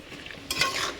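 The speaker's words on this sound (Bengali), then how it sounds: "আমার আলুটা ভাজা হয়ে গেছে এখানে প্রায় একটু হবে।" Potatoes frying in a pan while being stirred, a soft crackling sizzle that swells halfway through with a brief scrape of the utensil, close and alone with no talking.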